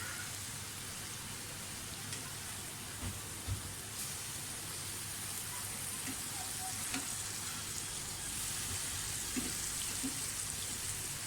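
Chicken breast pan-roasting in a pan with masala, a steady close sizzle and crackle of frying that runs without a break, with faint occasional pops and no talking.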